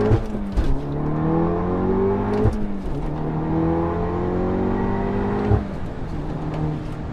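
An APR Stage 2 tuned Volkswagen Golf R, rated at 392 horsepower, accelerates hard. Its engine note climbs steadily and drops sharply at each of several quick gear shifts, loud and close from inside the car.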